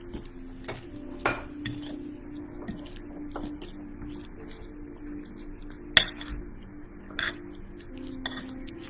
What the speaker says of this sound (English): Okay, use your muscles and stir.